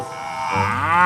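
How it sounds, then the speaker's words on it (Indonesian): A toy cow lets out a single loud, drawn-out moo that swells and holds to the end, with nothing else heard. "ada hewan sapi, sapi mo."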